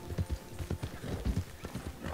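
A horse gallops in a video game, its hooves pounding in a rapid, rhythmic clip-clop of close, fairly faint beats, with a brief whinny mixed in.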